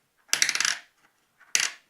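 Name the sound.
Mexican peso coins dropping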